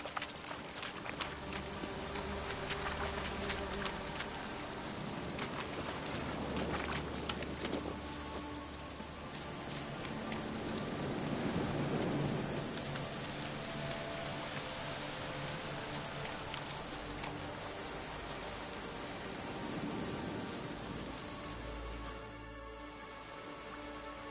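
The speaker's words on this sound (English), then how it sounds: "Looks like rain." Steady rain hisses through a village scene in the game The Witcher III, a continuous broadband wash with horse hooves clopping and footsteps passing underneath.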